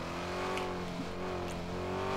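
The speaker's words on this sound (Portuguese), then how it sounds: "tem que ligar o carro" A steady video game car engine hum with a faint rising rev as the car starts, low and continuous throughout, with no voices.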